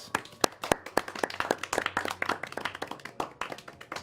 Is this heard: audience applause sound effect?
yes